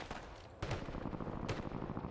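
Gunshots ring out during a video game esports tournament match, with two sharp blasts, one early and one near the end, over a dense, steady bed of in-game noise.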